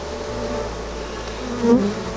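A dense, steady hum of many honey bees buzzing up close on a hive frame, continuous throughout with a slight swell near the end.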